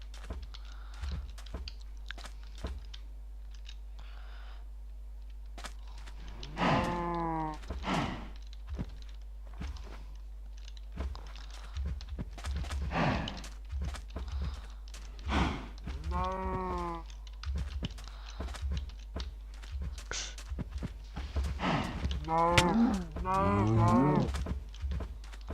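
Several cows in a Minecraft game lowing in short repeated moos, spaced across the scene over a faint steady hum, with soft thunking clicks between calls.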